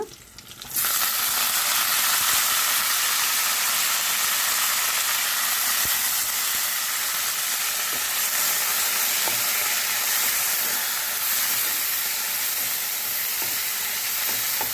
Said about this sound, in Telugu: పోపులు కూడా వేగిపోయినాయి ఇప్పుడు కొత్తిమీర వేసుకుందాము